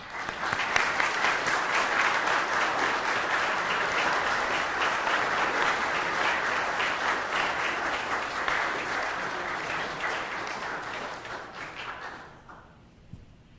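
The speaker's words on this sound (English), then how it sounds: "Please round of applause for them." Sustained audience applause at a village award ceremony honoring firefighters, dense clapping from a sizable crowd that carries steadily for about twelve seconds before tapering off, with a single stray clap near the end.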